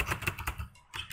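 Rapid, close keystrokes on a computer keyboard as a password is typed, a quick run of clicky taps with a short pause before a final burst.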